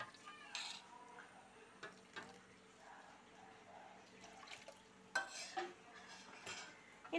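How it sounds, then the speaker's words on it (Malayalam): A spoon stirs sugar syrup thickened with cornflour in a pan, making soft scraping and clinking strokes against the metal at an irregular rhythm over a quiet, low background. "ഇനി ഇത് ശരിക്കും വെള്ളമൊക്കെ ഒന്ന് പറ്റി നല്ല കട്ടയാവുന്നത് വരെ ഒന്ന് ഇളക്കി കൊടുക്കണം"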